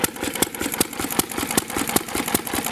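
A McCormick Deering M tractor engine, just restored and running for the first time in decades, putters at a steady governed idle with rapid regular exhaust pulses, close and loud with no talk.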